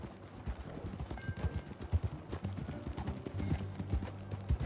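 Horse hooves clip-clop steadily in Red Dead Redemption, a brisk, close rhythmic beat of several hoofbeats over a low ambient bed, with a brief whinny-like tone partway through.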